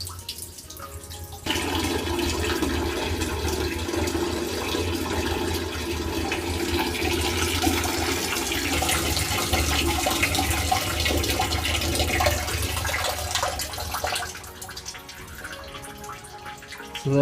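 Water tinted with red dye drains and swirls down a plughole in a Coriolis effect demonstration, giving a steady, close rushing and gurgling flow that runs for most of the clip before tapering off.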